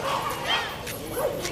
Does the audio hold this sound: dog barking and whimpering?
yes